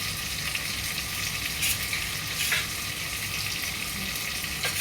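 Cumin and turmeric powder sizzle in hot oil for a fish curry, a steady close-up frying hiss with occasional stirring scrapes throughout.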